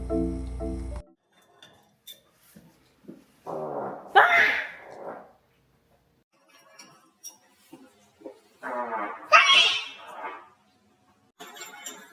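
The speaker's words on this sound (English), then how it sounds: "but of course he farted" A man breaks wind twice while sweet rice flour paste is being mixed for Korean radish kimchi, each fart a short rough blurt standing out loudly against a quiet kitchen, with a brief buzzy burst at the start and soft clinks between.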